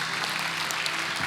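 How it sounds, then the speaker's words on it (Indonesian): A church congregation claps during a sermon, dense continuous applause filling the room evenly from start to finish. "Ya, kita kasih tepuk tangan betul."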